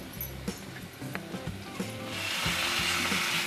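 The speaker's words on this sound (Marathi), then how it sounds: "आता हे सर्व आपल्याला थोडं परतून घ्यायचं आहे." Chopped green chillies sautéing in ghee in a pan for a fasting thali, a steady close sizzle with scattered clinks and scrapes of a spoon, the frying hiss growing louder toward the end.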